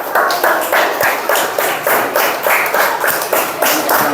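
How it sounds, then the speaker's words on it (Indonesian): Applause from a group at a classroom coaching presentation, with distinct rhythmic claps repeating in a steady beat, fairly loud and close, a few hands clapping together with no talking. "Beri tepuk tangan yang meriah untuk kelompok 2."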